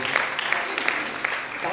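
Applause from a church seminar audience, a steady wash of many hands clapping at moderate level, running for the whole short stretch without a break.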